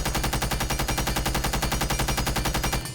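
Zofia's M762 assault rifle in Rainbow Six Siege fires one sustained, loud, close-up burst of rapid, evenly spaced shots for about three seconds before it stops abruptly.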